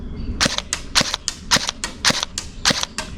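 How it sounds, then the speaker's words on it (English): A Novritsch SSE18 airsoft electric rifle fires on full auto with a 100-round magazine, giving a string of about seven sharp, snappy bursts spaced roughly half a second apart, close and loud. "let's try full auto on the 100 round mag"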